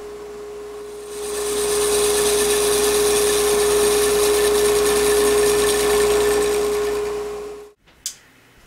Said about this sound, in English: I just finished turning down the last of these bowls here